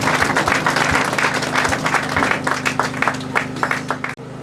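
Applause and cheering from a crowd at a school graduation ceremony, with dense, steady clapping that goes on without a break and no voices standing out.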